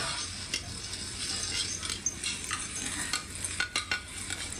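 Nasi goreng (fried rice) is stir-fried in a pan with steady sizzling and frying, while a utensil repeatedly scrapes and clinks against the pan in uneven strokes, close and continuous.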